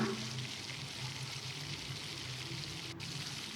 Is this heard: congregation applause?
no